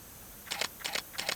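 A camera shutter on a slow shutter speed fires three times in an even rhythm, each a paired mechanical click-clack close to the mic, during outdoor photography of a Carolina pygmy rattlesnake, with no talking.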